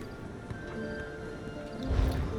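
Horse in the game Elder Scrolls Online, with faint clip-clopping hooves and a brief whinny near the end over low game ambience.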